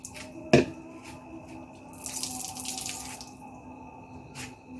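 Tap water runs steadily into a sink while dishes are washed, with a sharp clink near the start and a louder gush of flow midway, close and fairly quiet, with no talking.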